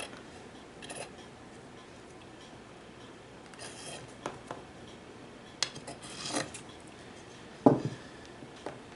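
Scissors trimming excess fabric from beneath a homemade DIY cookie plate produce a handful of faint, sparse snips and rustles in a quiet room, with no talking.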